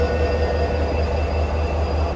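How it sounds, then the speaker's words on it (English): An Israeli double-decker train hums at a station, a steady loud low rumble with a constant mechanical drone and faint tonal whine, unbroken for the whole stretch and free of speech. "Look at the size of the Israeli trains, double-decker whoppers."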